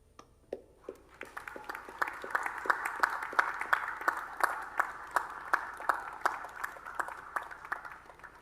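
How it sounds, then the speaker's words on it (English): Graduates and guests at a university ceremony in Cairns break into applause that builds from a few sharp claps into steady, rhythmic clapping, fairly distant in a large hall. "join me in a vigorous round of applause"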